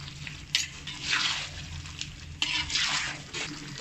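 Mutton curry is stirred and scraped in a pot over heat, giving bursts of wet sizzling and scraping that rise and fall across a steady low hiss, with no talking.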